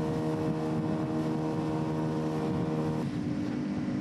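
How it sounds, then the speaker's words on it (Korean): Small fishing boats head out from an island village, their motors droning steadily at a moderate distance under faint wind noise, with no talking. "그 시각 마을에서 5대의 배가 출발했습니다."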